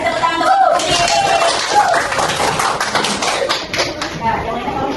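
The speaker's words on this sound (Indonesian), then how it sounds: "Kasih tepuk tangan untuk kelompok kucing." A classroom group gives applause for a student group presentation in a math lesson, a loud burst of scattered, uneven clapping over the full stretch mixed with voices and chatter.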